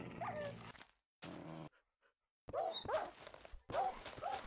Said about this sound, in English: I did not know friendly wolves turned on you.